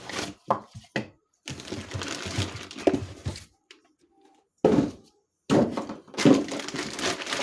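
Parts of a 24-volt three-nozzle cab heater for a Bohdan/Etalon bus being unpacked from a plastic bag: bursts of crinkling and rustling plastic with a few thunks, broken by short quiet gaps.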